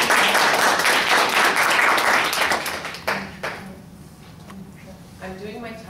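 Applause from an audience at a student informative speech, a dense burst of clapping that thins into scattered claps and fades out after about three seconds before a voice begins speaking.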